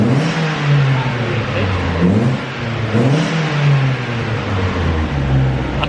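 A Mazda MX5 fitted with an M2 Motorsport exhaust revs loudly nearby, the engine note rising and falling through several blips before settling back to idle.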